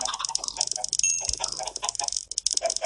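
Several Minecraft Pocket Edition chickens cluck in quick, scattered bursts against steady game sounds, with no talking.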